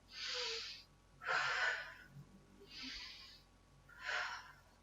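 Loud, forceful breaths during a theater breathing exercise in a workshop: four separate airy exhales or gasps, each about a second long, spaced by short pauses, close and alone.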